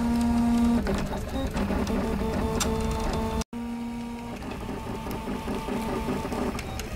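A large home-built 3D printer with over 200 litres of build volume runs continuously during a bridging pass, its stepper motors giving a steady whirring, tonal hum with a brief dropout midway.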